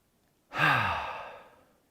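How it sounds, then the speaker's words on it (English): A single deep, relaxing exhale by a man during a calm spine warm-up routine, a long soft airy sigh that swells quickly and fades slowly over more than a second, close and alone. "I'll take a deep, relaxing breath."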